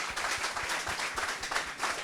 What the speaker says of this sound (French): J'aimerais qu'on fasse beaucoup d'acclamations pour le doyen Sékou le Gros.